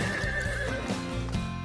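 A horse in a French animated series whinnies in a long, wavering neigh with strong harmonics, close and loud, with faint hoof clip-clop beneath and no talk.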